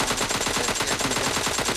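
Machine gun fire from a video game shooting match rattles in a rapid, continuous burst of evenly spaced shots, loud and close, with no speech.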